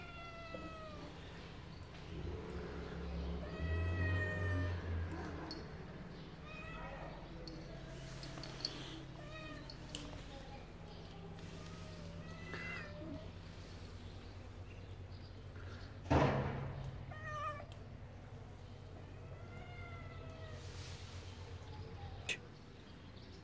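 A Siamese cat meowing repeatedly indoors, with several drawn-out, wavering meows and caterwauls spread across the scene, fairly close, while a person talks quietly at times.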